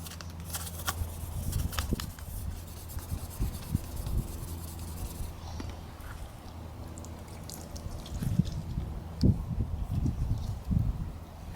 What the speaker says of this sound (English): Just sand it and get this crap off.